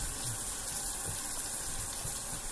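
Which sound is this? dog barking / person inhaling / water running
water running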